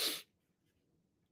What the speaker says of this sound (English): Every time you say her name, you break out into sneezing.